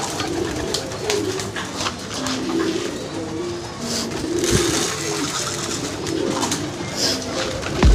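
Pigeons coo in soft, repeated low calls during a feeding, with scattered wing flutters and light scratching over a steady outdoor background.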